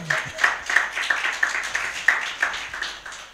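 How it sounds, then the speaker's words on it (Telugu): A church congregation claps together at a Sunday service, with a run of fairly even, crisp claps at a steady rhythm, moderately close and loud. "చాలా బాగా కొట్టారు చప్పట్లు"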